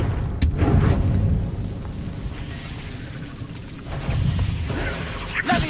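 A Confringo fire spell blast in Hogwarts Legacy, a loud booming burst with a rumbling, crackling tail that fades and then swells again with a second surge of blast noise near the end, game sounds only.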